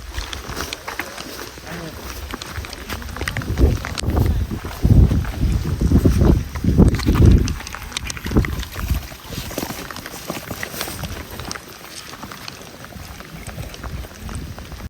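Wind gusting outdoors in cold rain on a hillside outing, buffeting the microphone in uneven low rumbling bursts that swell strongest midway, with a voice talking intermittently.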